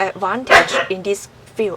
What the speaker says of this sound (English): I'm sorry about my dog.